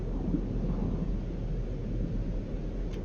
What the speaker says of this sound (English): Weather warning. Incoming storm. Great. Storm coming in.